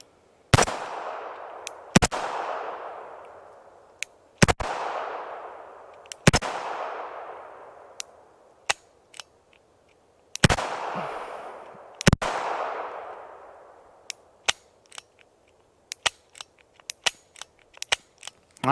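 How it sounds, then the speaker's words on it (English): A Charter Arms Target Pathfinder .22LR revolver fired double action, a string of sharp, close shots at irregular spacing, each followed by a short ringing decay, with quieter clicks and mechanical noises between them. "With another 8 shots loaded up, I'm going to try double action this time."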